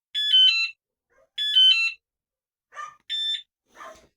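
Bicycle alarm A2 sounding while its unlock button is held: loud, bright electronic melodic beeps in repeated short bursts, separated by brief pauses, with some warbling chirps between them.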